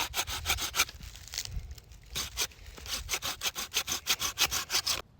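A handsaw cuts through a piece of wood for a handmade turtle call, giving close, rhythmic rasping strokes that pause briefly, then resume faster and steady to the end.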